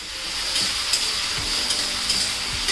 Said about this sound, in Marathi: मिरची चांगली तळलेली आहे बघा। त्याच्यामध्ये ना हा बटाटा घालते मी।